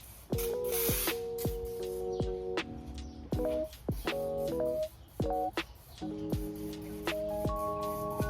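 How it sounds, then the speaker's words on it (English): Water is sprayed to rinse cleaner off a Sterling 10.5 Super Duty axle in short hissing bursts that start and stop repeatedly, close by, over a background of steady tonal beeping and no talk. "come back out and spray it down with water, get it all clean."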